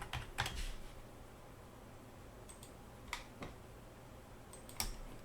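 A computer keyboard during a CAD quantity-takeoff lesson: a few sharp, separate key clicks, a quick pair near the start and more spaced taps later, over a quiet room hiss.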